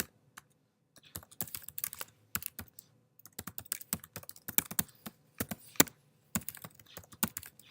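Quick bursts of keystrokes on a computer keyboard as client details are typed into a form, irregular clusters of clicks with short pauses, close and fairly quiet, no talking.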